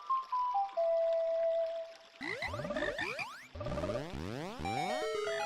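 A song plays on the ocarina in Ocarina of Time 3D, a clear bright melody of short rising and falling notes followed by shimmering descending chime-like flourishes.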